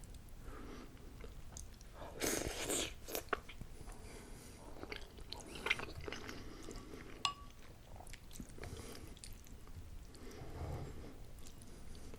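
Homemade ramen made with spaghetti noodles is eaten close to the microphone, with soft wet chewing, slurps and occasional crisp clicks spread over several seconds, quiet and without talk.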